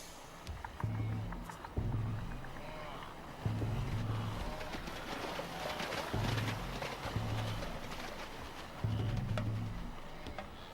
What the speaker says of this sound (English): Wildebeest were created for this crossing.